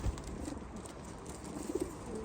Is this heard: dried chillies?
no